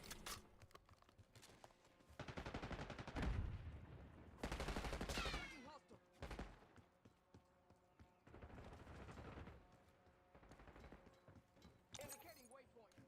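Rapid gunfire bursts from the shooter video game Warzone, loud and close, with repeated volleys and single shots spread across the clip, broken by brief quieter gaps and game effects.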